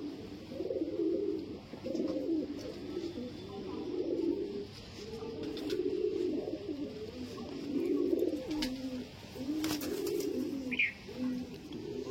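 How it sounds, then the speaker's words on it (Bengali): Home-bred line pigeons of Andhra, Madras and Malwa types coo continuously in a loft, with overlapping low burbling calls rising and falling in a steady rhythm for the whole stretch, nearby and fairly loud. "দেখো সব রাজাদার বাড়ির পায়রা।"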